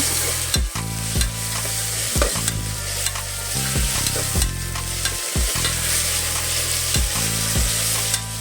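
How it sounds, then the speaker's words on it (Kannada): Onions with ginger-garlic paste frying in a pan while a spoon stirs, a constant sizzle broken by repeated scraping and knocking strokes against the metal. "ನಾನೀಗ ಶುಂಠಿ ಬೆಳ್ಳುಳ್ಳಿ ಪೇಸ್ಟ್ ಹಾಕೋತಾ ಇದ್ದೀನಿ. ಹಾಕೊಂಡು ಮತ್ತೊಮ್ಮೆ ಫ್ರೈ ಮಾಡ್ಕೊಳ್ಳೋಣ ಚೆನ್ನಾಗಿ."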